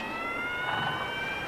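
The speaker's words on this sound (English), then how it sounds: "Those sirens are making him nervous." Fire engine sirens wail steadily in a continuous sustained tone, sounding fairly distant against a broad wash of background noise, with no speech during the short stretch.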